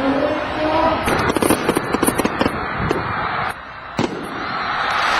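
A fireworks display at a Lasallian school festival, with a rapid burst of sharp crackling pops over loud outdoor crowd noise and a lone bang near the end.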